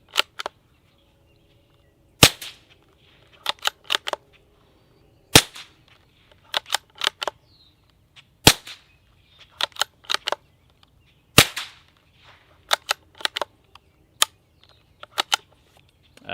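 Supersonic .22 LR rounds fired through a Bowers Bitty silencer on an outdoor range: a long series of sharp, loud cracks, some single and some in quick pairs or triplets, separated by short quiet gaps with no talking.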